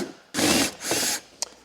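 A ratchet whirs in two quick bursts while backing out 8 mm screws from interior trim panels of a BMW i3, loud and close, ending with a small metallic click.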